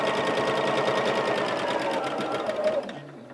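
A sewing machine stitches rows of a quilt, running steadily and loud for about three seconds before winding down and stopping, with no talking.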